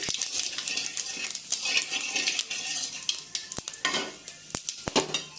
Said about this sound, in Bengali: শুকনো মরিচ, তেজপাতা, জিরা ফোড়ন দিয়ে আমি রান্নাটা করছি